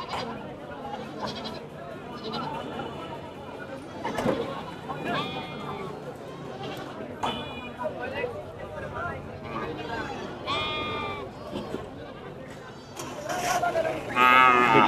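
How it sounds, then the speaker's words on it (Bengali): Cattle moo repeatedly at a weekly livestock market as more cows arrive by pickup truck, several calls near and far amid goat-like bleats, crowd murmur and people talking. "পিকআপে করে গরু আসতেছে।"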